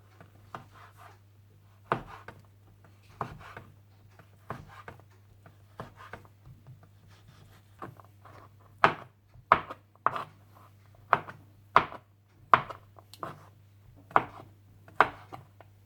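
A knife strikes a cutting board as grilled chicken is cut into cubes. Sparse, spaced chops come first, then quicker, sharper ones close by, with a low steady hum underneath and no talking.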